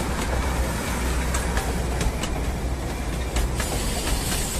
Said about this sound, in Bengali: টয় ট্রেন আসতেই যেন আনন্দের আর বাদ মানে না।